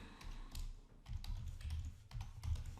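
Someone types on a computer keyboard in short clusters of soft taps with small gaps, close but quiet.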